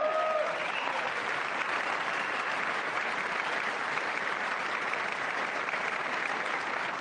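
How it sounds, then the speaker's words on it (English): Sustained applause from lawmakers in a legislative chamber, a broad, even wash of many hands clapping that carries on unbroken after a brief opening moment. "I wasn't sure if anybody even on this side was going to applaud for that."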